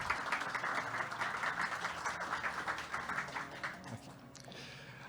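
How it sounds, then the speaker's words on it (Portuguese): Audience applause at a PwC Brazil sustainability forum as an energy leader is called to the stage, a steady wash of clapping that holds for several seconds and then thins toward the end. "Palmas para o Adriano."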